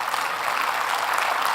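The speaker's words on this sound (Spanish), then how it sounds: "de un aplauso a Dios," Applause from a church congregation, a steady dense wash of clapping, moderately loud and sustained without voices.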